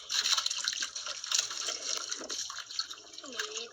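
Oar paddling a small fishing boat, with soft watery splashes and gurgles in an irregular rhythm, close and fairly quiet.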